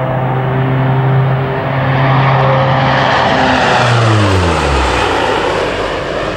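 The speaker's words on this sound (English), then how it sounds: "The RNZAF's Lockheed P3 Orion aircraft are operated by No." A Royal New Zealand Air Force Lockheed P-3 Orion patrol aircraft of No. 5 Squadron, Auckland, fills the clip with a loud, steady engine drone whose tones slide downward near the end as it passes.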